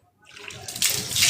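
Water is poured in a steady, rising splash as a playful punishment, growing louder over a second or so, close to the listener.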